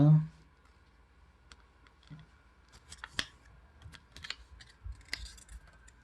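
Paper being creased and folded into triangles for an origami crane, with sparse close crinkles and sharp taps that cluster toward the end, quiet between them.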